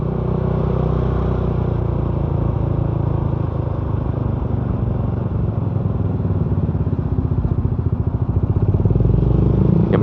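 An automatic scooter engine idles close by with a steady, rough, mid-pitched putter and faint mechanical clatter, holding even throughout and swelling slightly near the end, with no talking.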